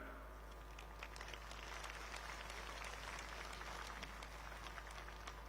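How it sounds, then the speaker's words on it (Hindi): A crowd at a public rally in Kolayat, Bikaner claps steadily throughout, with a broad, continuous patter of applause at moderate distance and a faint low hum underneath. "तालियां बजा रहे हैं।"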